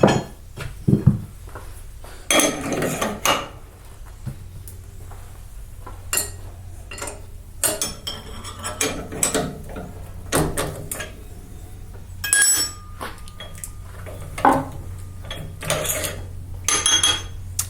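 Metal clanks, knocks and ratcheting scrapes come from a gunsmith's bench as an action wrench tightens a rifle action onto a barrel being chambered, in a series of irregular, fairly close bursts separated by short pauses.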